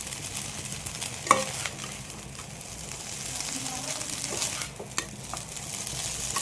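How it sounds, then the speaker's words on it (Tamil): Chicken noodles with masala stirred slowly in a pan: soft scraping and light clinks of the utensil over a faint frying sizzle, close and quiet, with a voice speaking in places. "ஸோ நீங்கள் பொறுமையாக கிளறுங்க."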